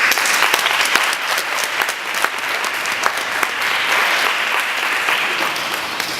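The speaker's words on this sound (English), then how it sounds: "You can go give a round of applause." Sustained audience applause at a school gathering in Hempstead, NY, steady dense clapping throughout with a few sharper claps standing out, fairly close and loud, no voices over it.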